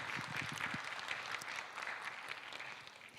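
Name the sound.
applause for a speaker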